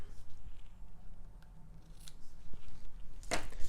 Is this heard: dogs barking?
no